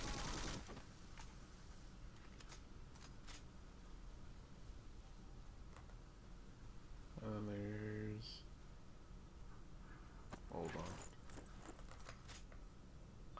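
Shotgun and other gunfire in the first-person shooter video game Black, with sharp scattered bangs over a constant noisy background and a brief tonal game sound in the middle.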